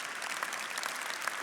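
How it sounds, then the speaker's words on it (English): An audience at a talk applauds steadily, a dense, even patter of many hands clapping close by with no pauses. "you can clap for that"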